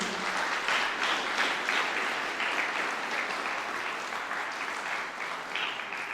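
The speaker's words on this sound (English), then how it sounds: "Can we have a big round of applause for the Balladiers, please?" A school concert audience applauds the Balladiers choir with sustained, even clapping that fills the hall at moderate volume and tapers only slightly toward the end.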